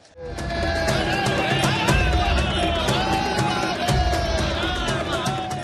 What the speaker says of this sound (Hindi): आप देख सकते हैं कैसे लोगों की भीड़ लगातार चली आ रही है